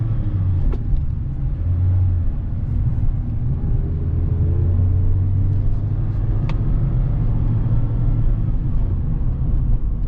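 A 2021 Mazda MX-5 Miata's engine rumbles steadily while a driver learns stick shift, a continuous low drone with slight rises in revs, fairly loud and close throughout with no talking.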